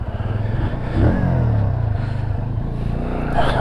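A 2022 SINNIS Outlaw 125 motorcycle pulls away, its small single-cylinder engine thudding in a rapid low pulse that rises briefly as it revs, loud and close.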